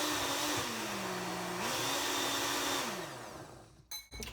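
A kitchen blender pureeing a sauce mixture runs with a steady, loud motor whir whose pitch dips and rises as the load shifts, then cuts off near the end with a few clattering knocks.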